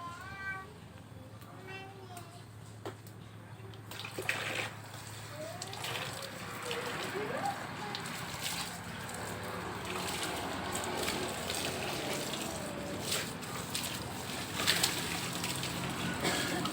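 A baby blanket is rinsed by hand for the third time, with water sloshing and splashing steadily from about four seconds on. Birds chirp in the background during the quieter opening.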